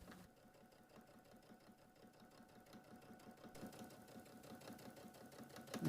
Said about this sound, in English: So now I'm just going to top stitch that in place